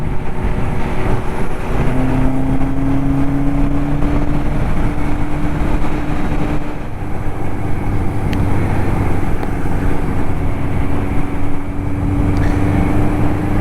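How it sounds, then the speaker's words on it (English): A 1981 Suzuki GS850 cafe racer motorcycle with an aftermarket exhaust idles and revs with a loud, throaty exhaust, a steady drone with rising and falling pitch throughout. "It's just a little bit loud because of the aftermarket exhaust"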